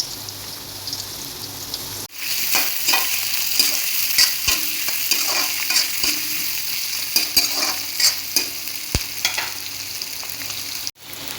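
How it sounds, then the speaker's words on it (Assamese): Potatoes fry in a pan for an Assamese chicken dry fry, hissing and sizzling steadily up close while a spatula stirs and scrapes with occasional sharp clicks against the pan. "আলুখিনি মই এনেদৰে অলপ ভাজি লৈছোঁ।"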